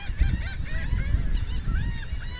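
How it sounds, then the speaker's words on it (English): Gulls calling repeatedly with harsh, honking cries close by, several birds overlapping in quick succession against an outdoor background rumble, with no talking. "these seagulls always land whenever they're around me"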